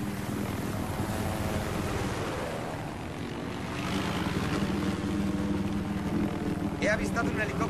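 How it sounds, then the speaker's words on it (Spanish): Enemy helicopter in the Battlefield 3 video game, a steady rotor and engine drone running continuously under dense in-game battle noise, with a brief brighter whine near the end. "Acabo de avistar un helicóptero enemigo."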